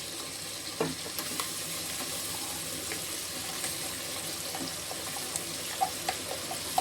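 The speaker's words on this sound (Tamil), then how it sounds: "இப்போ வந்து நம்ம தேங்காய் அரைச்ச விழுத ஊற்றுவோம்" Ground coconut paste goes into a frying tomato gravy for a crab dish, giving a soft, steady sizzle and bubbling with faint scattered stirring clicks, low and close.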